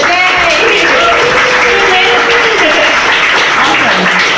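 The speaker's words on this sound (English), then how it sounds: "Give yourself a round of applause for coming here." A crowd of attendees at a tech meetup in Berlin applauds, dense continuous clapping and cheering filling the room, loud and close, with a voice speaking over it.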